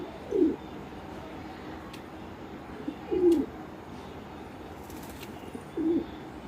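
A black pigeon with a white feather on each side coos three times at a steady spacing, each low call short and distinct over a faint steady background hum.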